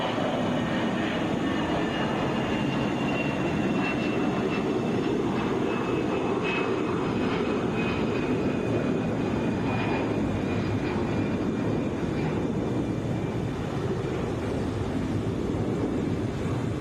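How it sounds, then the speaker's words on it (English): A Delta Airbus A319 airliner takes off from Atlanta, its jet engines producing a loud, sustained broadband roar that holds steady throughout at moderate distance. "Wheels up for Delta 1782, going to San Pedro Sula, Airbus"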